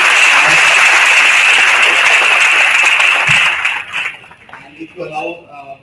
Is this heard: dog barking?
no